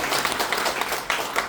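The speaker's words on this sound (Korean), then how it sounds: "더 큰 박수로 좀 내내시라고 위원님 박수 부탁드립니다" Applause from an audience at a Daejeon city council policy forum, dense clapping held steady through the short stretch at moderate loudness with no talk over it.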